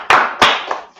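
A church congregation at a Sabbath service claps in three short bursts of applause, loud and close, with brief quiet gaps between them.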